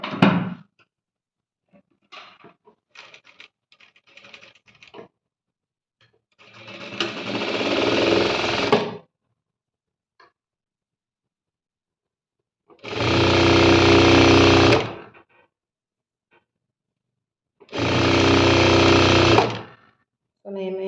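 Domestic sewing machine stitching a blouse seam for a puff-sleeve, boat-neck princess-cut garment, running in three loud bursts of about two seconds each, with quiet pauses and brief speech-like sounds between.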